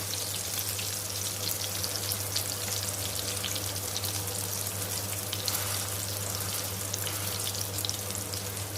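Masala-coated vanjaram fish deep-fries in hot oil, giving a steady, dense sizzle and crackle with faint pops throughout and no voices.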